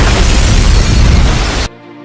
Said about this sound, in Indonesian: bom itu otomatis meledak